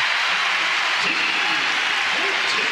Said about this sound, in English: crowd trying to get this Iowa State defense to rise up a little bit here, get a stop